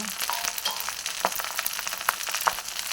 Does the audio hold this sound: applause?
no